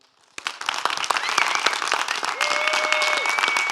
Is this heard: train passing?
no